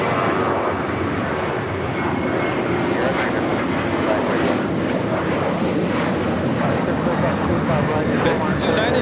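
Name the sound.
United Airlines Boeing 737-800 taking off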